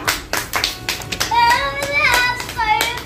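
Several people clap their hands in quick, slightly uneven bursts at a children's Independence Day party, close and fairly loud, with a voice rising over the clapping midway.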